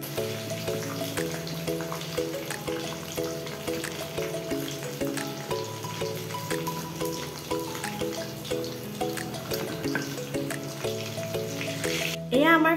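Fish fingers frying in oil over a low flame give a steady, close sizzle under a tonal background of music, with a brief louder burst near the end.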